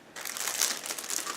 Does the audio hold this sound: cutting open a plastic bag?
yes